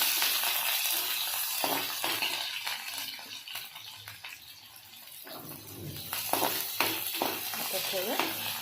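Sliced onion with mustard seeds and cumin frying in a pan gives a steady broadband sizzle with occasional stirring scrapes. It eases off midway, then builds again, heard close.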